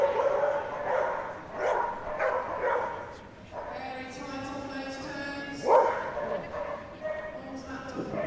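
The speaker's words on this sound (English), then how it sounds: "with Punsi, a border collie, 5 years old" A five-year-old border collie barks in short bursts at a Crufts agility competition, the yips and woofs ringing out over a busy arena crowd and a commentator talking throughout.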